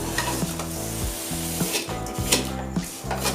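Vermicelli frying in a pan for sheer khurma, with a steady sizzle and repeated scraping stirs. A low, rhythmic stirring pattern recurs roughly every second against the constant crackle, with no talking.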